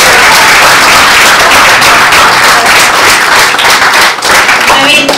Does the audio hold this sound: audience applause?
yes